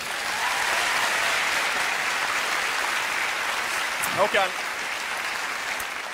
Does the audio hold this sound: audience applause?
yes